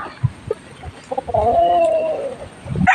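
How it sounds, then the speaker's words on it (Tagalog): A broodcock rooster clucks on a farm, with a few short sharp clucks leading into a sustained close call, then more clucking at the end, no talk. "Broodcock natin yan."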